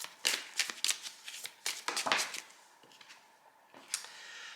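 Oracle cards being shuffled by hand in brisk riffling bursts, papery slaps and rustles coming in quick clusters close up, then briefly pausing before one last short flurry.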